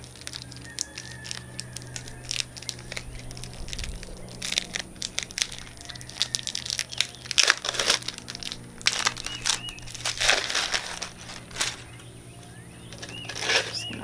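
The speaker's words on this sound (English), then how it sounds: "I'm going to go ahead and take it out of my PVC mold, which I taped on really well" Homemade soap pushed out of a taped PVC mold, with scattered crinkling, crackling and scraping bursts of tape and plastic, irregular and close, growing busier midway through.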